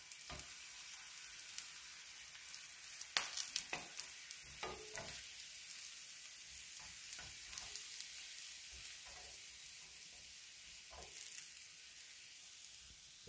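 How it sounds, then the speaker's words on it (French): Aubergine slices fry in a generous amount of olive oil for moussaka, giving a faint, steady sizzle and crackle broken by a few sharper spits and pan sounds, with no talking. "je vais remettre un petit peu d'huile d'olive et les tranches d'aubergine"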